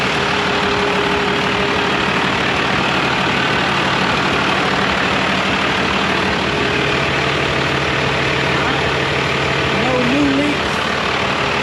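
A 12V Cummins diesel in a 1970 Ford F250 with a swapped Allison 1000 transmission idling loudly and steadily up close, a deep constant rumble under brief nearby speech.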